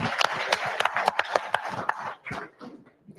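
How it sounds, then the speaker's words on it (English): Short burst of hand clapping from a small group at a workplace safety meeting, a few seconds of scattered claps that thin out and fade toward the end. "Let's give her a round of applause."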